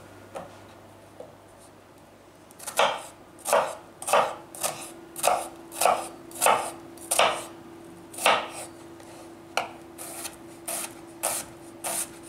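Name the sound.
chopping onion with a knife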